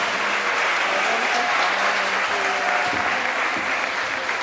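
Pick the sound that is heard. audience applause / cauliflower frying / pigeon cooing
audience applause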